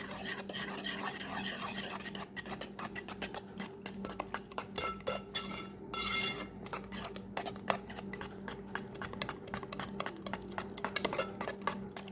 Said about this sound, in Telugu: మిక్స్ చేసుకుందాం బాగా.